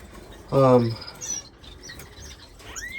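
Finches in an indoor bird room give short chirps and tweets, with one louder burst of calls early on followed by scattered, fainter peeps and a rising call near the end.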